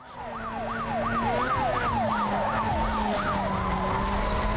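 Police sirens wail through a car chase in Need for Speed Most Wanted, a loud rising-and-falling siren cycling steadily over a constant engine drone, continuous and close throughout.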